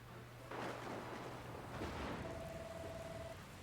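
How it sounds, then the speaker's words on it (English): Rain and rolling thunder in the video game Dragon Quest Builders 2, a steady broadband wash of falling rain with a low rumble, joined by a soft musical tone partway through. "Where did this rain come from?"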